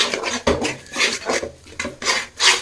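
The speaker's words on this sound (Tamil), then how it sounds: "இப்போ இந்த முட்டையை நல்லா கலரணும்" Egg masala stirred and scraped in a pan with a utensil, giving close, loud rhythmic rasping strokes about every half second.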